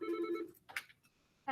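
A telephone rings with a bright electronic warbling tone for about half a second, then falls quiet until a brief clatter and the start of another ring. No one speaks.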